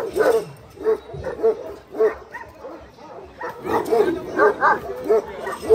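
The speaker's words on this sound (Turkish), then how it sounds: "Ama ne köpekler var ha." Dogs, including large Kangal-type guard dogs, bark repeatedly at a dog beauty contest in Denizli, Turkey, with loud rhythmic woofs close by while people talk in the background.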